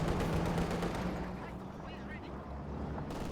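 Gunfire in Company of Heroes 2, a Wehrmacht versus Soviet match, with an 85mm gun firing. Dense, continuous battle noise fills the clip, with heavy shots layered over rumbling combat.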